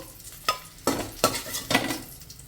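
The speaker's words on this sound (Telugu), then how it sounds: "చూడండి, ఈ విధంగా వేగితే సరిపోతుంది పచ్చిమిరపకాయ ముక్కలు." Green chilli pieces frying in a pan, with a steady sizzle broken by several sharp scraping stirs of a spatula at close range, no voices.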